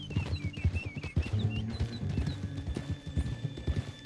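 Horse hooves in a western video game clip-clop in a quick, uneven rhythm at close range, with a neigh and high whistling birdlike calls over the steady trotting.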